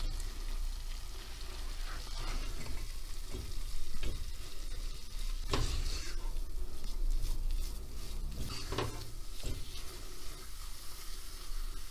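Flour being slowly roasted and stirred in a pan, a steady soft sizzle with scraping stir strokes and occasional louder scrapes, close and continuous without talk.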